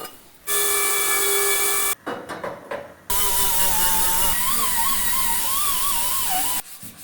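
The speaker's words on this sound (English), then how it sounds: "if I just shape that up with the little sander" Small hand sander shaping a cut in steel tubing for a roll cage on a Datsun 240Z restomod; a loud, steady high whine runs most of the clip, broken by a short stuttering burst near the start and a brief stop near the end.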